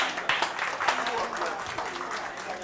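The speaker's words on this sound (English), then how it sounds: "They need a round of applause to get them up here." Audience at a speech festival opening ceremony in Grenada applauding, a dense crowd clapping that holds steady throughout with voices mixed in.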